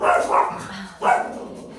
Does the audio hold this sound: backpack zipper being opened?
no